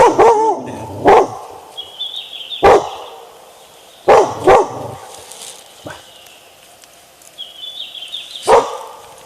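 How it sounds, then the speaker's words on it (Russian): A dog barks in several sharp bursts in a forest, loud and close, with short gaps between them, followed by a few high whining yips. "Собака опять кого-то там держит на расстоянии, какого-то зверя от нас."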